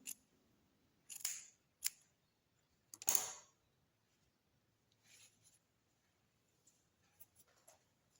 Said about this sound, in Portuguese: Vem com a tesoura e corta o excesso de lã.